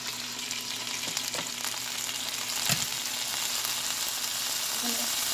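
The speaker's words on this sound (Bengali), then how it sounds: "এটাকে তেলের সঙ্গে কিছু সময় ভেজে নেব" Garlic frying in oil as the start of a chicken lollipop sauce, a close, steady sizzle with a few faint stirring knocks against the pan.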